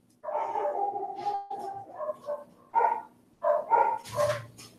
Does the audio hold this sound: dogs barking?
yes